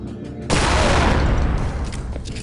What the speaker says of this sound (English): a quad-barrel shotgun. Shoot off 4 shells, either in quick succession or all at once.